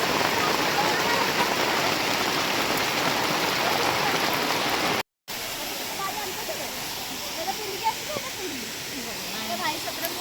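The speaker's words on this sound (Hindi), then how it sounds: "अरे वर्षा हला रे।" Rain falls at Gundicha Ghagi waterfall in Kendujhar, a dense, loud and steady hiss of water that briefly cuts out halfway, then resumes slightly softer with scattered drips.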